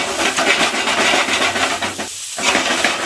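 Chicken kebab pieces frying in butter over a high flame while being stirred, a continuous loud sizzle and hiss with scraping and clinking of a utensil against the pan.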